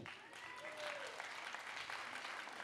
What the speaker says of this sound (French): Chaïma, Marion, Alissa, Émilie et Mathilde, que l'on peut encore applaudir bien fort.